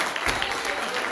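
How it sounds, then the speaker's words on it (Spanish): A church congregation bursts into applause during a Spanish-language sermon, a brief, steady roar of many hands clapping with a voice faintly underneath. "dale fuerte el aplauso al Señor"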